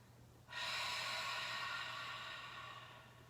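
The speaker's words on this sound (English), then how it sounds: "exhale through the mouth" A single long, soft exhale through the mouth during a chair yoga breathing sequence, a breathy rush that starts suddenly and slowly fades, close to the microphone.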